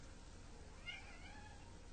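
A cat gives a single meow near the middle of the moment, fairly faint against steady background noise in a home with a Christmas tree.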